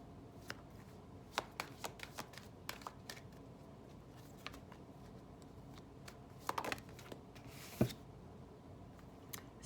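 Angel Tarot cards by Bradley Valentine are shuffled in quiet, irregular bursts of soft riffling and slapping flicks, with a longer shuffle near the end, close and faint against a quiet room.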